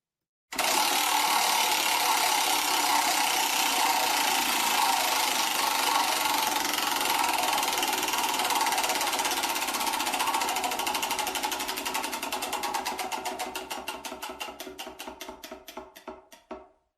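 A prize wheel spins with a steady, rapid clatter of its pointer against the pegs, loud and continuous, then slowing into distinct ticks that spread apart and stop after about sixteen seconds.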